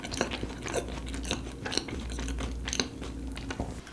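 Close-up chewing of a crispy donut, with repeated soft crunches and wet mastication in an uneven rhythm, quiet and intimate with no talking.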